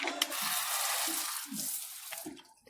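Water runs under pressure, a close, hissing rush that holds steady, then thins and tapers near the end, with a few low gurgling splashes mixed in.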